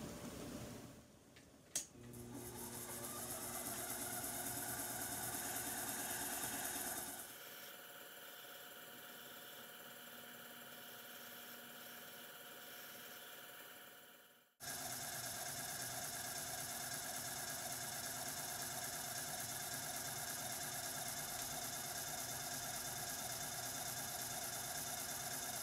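A Sherline lathe turns wood for model ship pillars under a gouge, with a steady mechanical hum and faint rattle that drops away midway, then resumes abruptly and runs on evenly.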